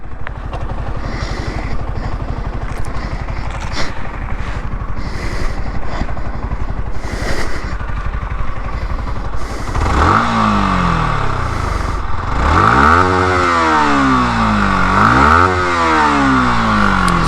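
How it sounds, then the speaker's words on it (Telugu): A Yamaha R15M V4 motorcycle idles with a steady, throbbing exhaust burble, then revs hard several times, each blip climbing sharply and falling back, loud and close with no voices. "సో ఎగ్జాస్ట్ నోట్తో ఒకసారి ఎండ్ చేస్తాను."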